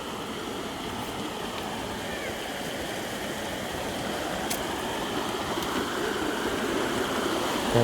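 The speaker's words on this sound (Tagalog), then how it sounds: "Yung tunog ng ilog" A river flowing steadily nearby in the provinces, a continuous rushing and babbling of water with no voices.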